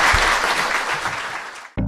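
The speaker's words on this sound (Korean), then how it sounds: "후원하실 분 후원해 주시고 박수 부탁드립니다." A live studio audience at a Korean talk show claps loudly and steadily for close to two seconds before the applause cuts off abruptly, followed by a brief burst of another sound.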